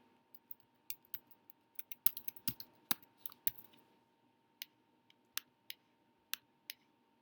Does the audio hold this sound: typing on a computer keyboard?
yes